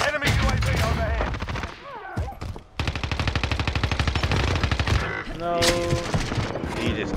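Sustained machine gun fire from an MG 82 in a Call of Duty–style shooter, loud rapid bursts running nearly continuously with a short break, game voice callouts layered over it.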